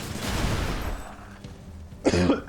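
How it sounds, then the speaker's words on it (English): A person gives a short, sharp cough near the end, following a stretch of muffled background noise. "Oh, I feel a cough coming."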